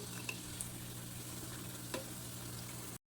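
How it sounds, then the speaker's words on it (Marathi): Spiced red pumpkin puris deep-frying in oil, a faint, even frying hiss with a low background hum and a few small pops scattered through. "अशा पद्धतीनं सगळ्या पुऱ्या आम्ही तळून घेणार आहे"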